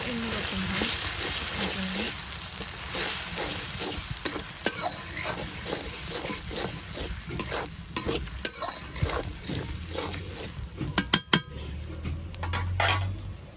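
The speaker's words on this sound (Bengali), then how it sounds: "এরপর হচ্ছে একটু আদা রসুন দিয়ে দিচ্ছি, এটাকে ভালো করে ভেজে নিলে" Ginger and garlic fry in a pan for a curry with a continuous close sizzle, punctuated throughout by frequent metal spoon scrapes and clinks against the pan. A faint voice is briefly heard early on.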